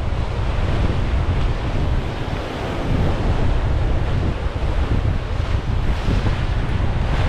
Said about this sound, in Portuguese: Olha o vento que tá, vou até colocar na frente da câmera aqui, porque com certeza tá fazendo muito barulho aí.